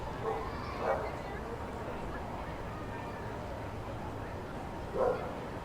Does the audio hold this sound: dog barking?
yes